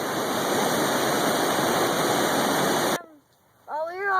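Floodwater rushing in Kentucky roars as a loud, steady broadband wash for about three seconds, then cuts off abruptly, followed by a quiet gap and a few bird-like chirps.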